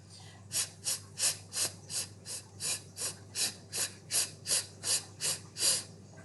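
A voice imitates a water sprayer with about fifteen evenly spaced, breathy hissing puffs, close and fairly quiet.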